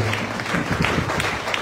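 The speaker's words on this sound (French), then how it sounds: "Est-ce que vous pouvez acclamer pour vous-même?" Steady, dense applause from a church congregation fills the whole moment at close range, an even wash of clapping with no break and no voices over it.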